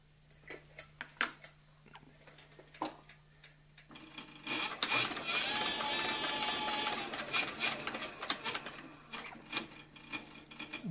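A Cowboy CB4500 heavy-duty leather sewing machine starts after a few scattered clicks and runs in a steady, rhythmic mechanical chatter for several seconds, then slows into separate thumping stitches, close by without talk.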